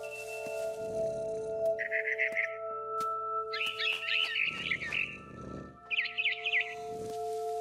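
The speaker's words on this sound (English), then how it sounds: "Then I heard chirping outside my window. It was a barn swallow going back to her nest." A barn swallow in the video game What Remains of Edith Finch chirps in several short bursts of rapid twittering over a steady low ambient hum, with quiet rustling sounds between the calls.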